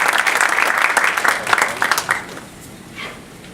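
Audience applause welcoming lecturer Henry Glassie at a Bridgewater State lecture, a steady burst of many hands clapping that thins out after about two seconds and fades to scattered claps.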